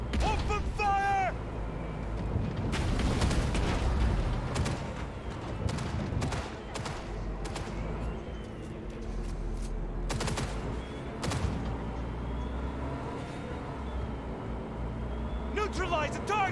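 Bursts of automatic gunfire crack through a firefight in the video game Cyberpunk 2077: Phantom Liberty, loud and rapid volleys with scattered single shots over a rumbling background, with voices talking between the exchanges.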